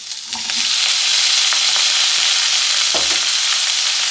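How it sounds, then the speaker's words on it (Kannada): Chopped onion and tomato fry in hot oil for a capsicum curry, giving a steady, close sizzle with a few faint stirring clicks and no talk. "ಇದೇ ರೀತಿ ಎಣ್ಣೆಯಲ್ಲಿ ಫ್ರೈ ಮಾಡ್ಕೋಬೇಕು."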